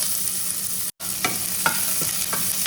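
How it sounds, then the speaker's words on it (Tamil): Sliced onion with fennel seeds sizzles steadily in a hot pan for a curry, with a brief drop in sound and several scraping stirs of a spoon against the pan. "வெங்காயம் கொஞ்சம் வதங்கட்டும்"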